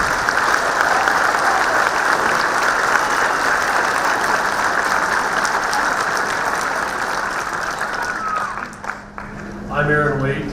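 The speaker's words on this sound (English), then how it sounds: "Please join with me in a round of applause for our 2017 graduates" Sustained applause from a large audience at a 2017 applied technology college graduation ceremony, steady and loud for about eight seconds before fading, with voices and a brief tonal sound emerging at the end.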